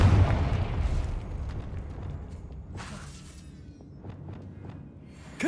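A Confringo fire spell explodes in Hogwarts Legacy with a loud, heavy boom at the start that rumbles away into a fading tail, then a few smaller crackling bursts and another sharp hit at the very end.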